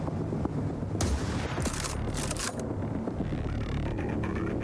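Gunfire in the video game The Last Caretaker, a dense, loud stretch of shooting with sharp bursts over a constant rumbling backdrop, no voices.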